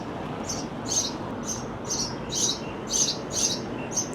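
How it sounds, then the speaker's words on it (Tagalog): Outdoor birds in Dubai chirp in short, high bursts, about eight quick calls at a steady rhythm over a constant wash of background noise. "May mga ibon, narinig nyo ba?"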